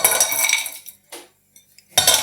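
Red berries tipped into a small saucepan for a coulis, giving clinking, rattling bursts of metal and fruit against the pan, separated by short pauses, close and fairly loud.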